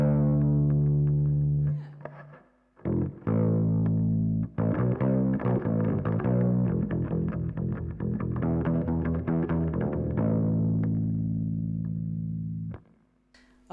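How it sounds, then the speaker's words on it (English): Bass ukulele played through an overdrive distortion pedal, sustained gritty low notes and short riffs with fuzzy harmonics, rising and falling in phrases before a final held note fades out. "distortion does tend to work quite well on the bass, so maybe just some overdrive to start with."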